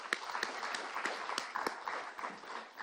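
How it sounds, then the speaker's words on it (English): An audience at a youth entrepreneurship event claps in a quiet, fairly sparse round of applause, with individual claps standing out at an uneven rhythm. "Let's give her a round of applause."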